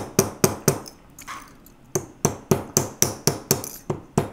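A softer hammer taps on washers during tube riveting for jewelry work, one sharp close strike after another, first a quick run, then a short pause, then an even steady series.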